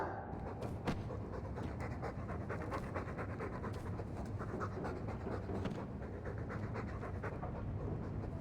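A dog pants steadily in the video game Dragon Age 2, quick rhythmic breaths running continuously at a soft, close level with no talk.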